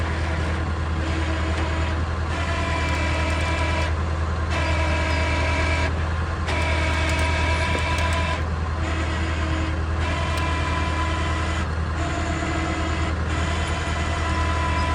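During an off-road recovery pull, a vehicle engine idles with a steady, loud low rumble that holds unchanged throughout, with faint rhythmic variations riding on top.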